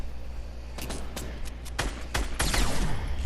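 Gunfire from Fortnite Battle Royale cracks out in several sharp, irregular shots over a low steady game background.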